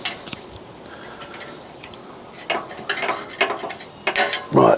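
A ratchet wrench turns a 10mm socket on a crash-damaged Fiat 500 while the wing and bumper are being removed. It starts with a few soft clicks, then a closer run of bursts of rapid ratcheting clicks with no talking.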